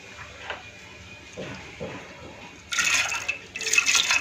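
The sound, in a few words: water poured into pressure cooker with washed dal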